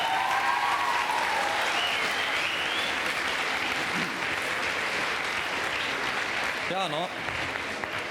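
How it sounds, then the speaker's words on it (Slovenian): Steady, full applause from an audience for a professor at a school class choir festival, dense and sustained throughout, with a few brief spoken words near the end. "Dajmo en aplavz za gospoda profesorja."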